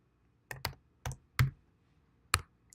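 Five sharp computer keyboard keystrokes in an irregular cluster, crisp and close, with quiet pauses between presses and a faint final tap.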